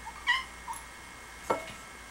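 A cat meows softly twice, short high cries separated by a pause, close but quiet against faint room noise.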